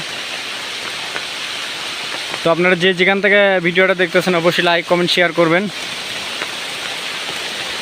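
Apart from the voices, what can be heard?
heavy rain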